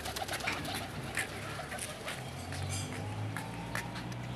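Pigeons coo in low, repeated murmurs over a steady outdoor background, with a few faint bird chirps and light ambient noise.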